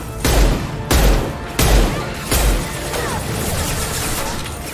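Mass Effect 2 combat with the concussive shot ability and gunfire: four loud, evenly spaced booming impacts with sharp crashes, close and punchy, then a lighter spatter of continued shooting trailing off.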